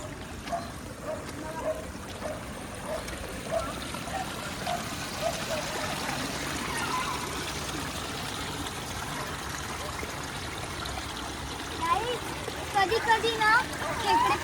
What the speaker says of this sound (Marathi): पाणी वाहतं